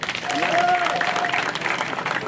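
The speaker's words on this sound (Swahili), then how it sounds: "Hebu wapigie makofi" Applause from a crowd at a Kenyan political rally in Bungoma, welcoming defectors to the UDA ruling party: steady, dense clapping lasting a couple of seconds, with a held voice tone drifting above it.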